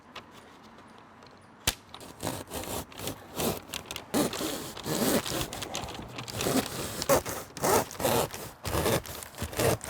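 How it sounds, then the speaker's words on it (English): A chalk line overloaded with chalk handled during attic stair insulation work, giving repeated close rasping, zipper-like pulls and rubbing scrapes in irregular bursts after a sharp initial snap. "Way too much chalk in this chalk line."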